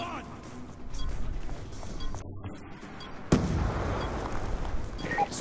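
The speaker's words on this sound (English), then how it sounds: "Throwing grenade!" A grenade blast and gunfire during a Call of Duty: Black Ops 2 multiplayer match, with steady shooting rattling throughout and a sharp, loud explosion near the middle, under faint voices.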